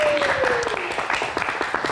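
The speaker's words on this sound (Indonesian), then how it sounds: "Kasih tepuk tangan dong buat Bang Miing." Audience applause at a live stage comedy talk show, a dense wash of clapping throughout with a descending whistle-like tone early on and some voices mixed in.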